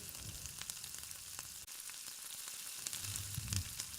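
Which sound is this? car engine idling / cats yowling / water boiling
water boiling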